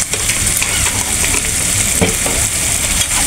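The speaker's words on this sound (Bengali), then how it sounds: "ভালো করে কষায় নেব" Water lily stems fry with chili powder, turmeric and salt in a hot pan, a loud steady sizzle with scraping stirring strokes close by and no talk.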